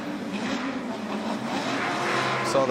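An Infiniti G37 drift car competes at a Formula Drift round at Englishtown. A loud, sustained engine roar mixes with tire noise in a dense, steady wash, with a sharper squeal near the end.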